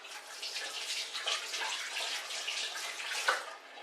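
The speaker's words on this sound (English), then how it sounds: "I'm just going to quickly wash my hands before I do that." Hands being washed under a running tap, a steady splashing water stream that holds for a few seconds, close and fairly quiet, with no talk.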